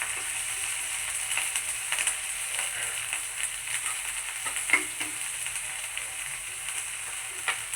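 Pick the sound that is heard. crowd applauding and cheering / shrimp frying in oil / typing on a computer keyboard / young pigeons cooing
shrimp frying in oil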